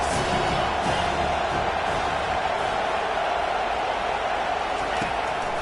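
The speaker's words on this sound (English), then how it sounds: "this crowd is tearing the lid off this place" Stadium crowd in an American football video game roaring steadily on a third down, a dense continuous wash of cheering that stays loud and even throughout.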